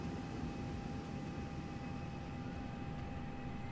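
Engine one of an Airbus A330 spooling up in X-Plane 12: a steady, even turbine whine and rumble with faint tonal hums, no talking.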